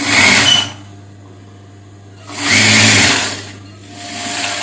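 A sewing machine stitches a quarter-inch seam in blouse fabric, running in two loud bursts and then a softer third run, with a low motor hum holding steady between the stitching.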